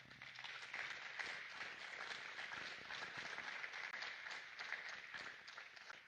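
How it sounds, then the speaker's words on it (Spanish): A church congregation applauds steadily throughout, a dense, even wash of many hands clapping at close range with no break. "Dale un aplauso al Señor."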